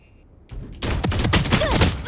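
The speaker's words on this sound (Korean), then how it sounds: "총소리 개말리네" Dense gunfire in a tactical shooter game: after a quiet start, a sudden sustained burst of rapid overlapping shots and ringing impacts, loud and close with no talking.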